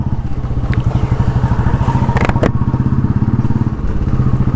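A KTM 390 Adventure motorcycle engine thrums steadily and loudly while riding on a mountain road, its rapid even firing pulses close up with some wind buffeting.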